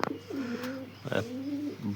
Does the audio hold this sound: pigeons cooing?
yes